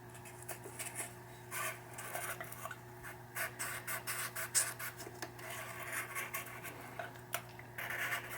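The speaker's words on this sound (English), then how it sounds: "I want to get some sandpaper on there just to get these contacts clean while it's easy right now" Sandpaper rubbing the contacts of a 1972 Williams pinball pop bumper clean, a faint close rasp in short repeated strokes over a low steady hum.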